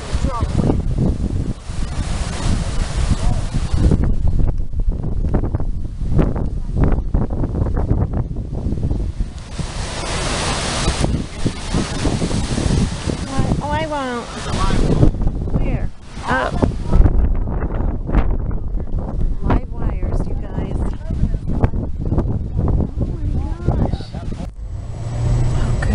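Strong hurricane wind from Hurricane Matthew roars and buffets continuously against the microphone, loud and gusting with no break throughout.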